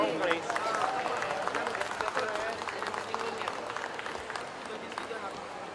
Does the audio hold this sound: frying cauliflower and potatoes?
no